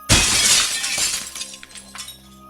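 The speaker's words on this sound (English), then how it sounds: "shattering the glass with a chair." A glass window smashed with a chair bursts loudly into a bright shatter, then the crash decays over about two seconds into scattered tinkling of falling shards, with no voices.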